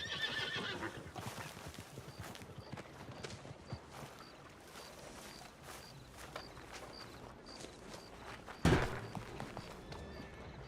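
A horse whinnies and its hooves clip-clop at a walking pace in a ranch roleplay video game, with a sharp louder burst near the end over a soft background.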